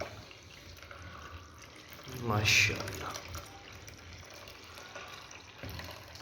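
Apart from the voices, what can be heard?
water being poured into a container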